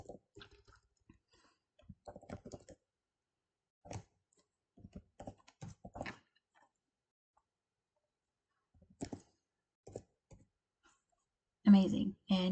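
An email address being typed on a computer keyboard, short bursts of soft key clicks separated by pauses of near silence, with a louder clatter at the end.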